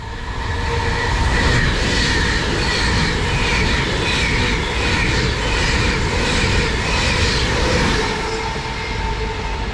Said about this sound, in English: one more train passing through.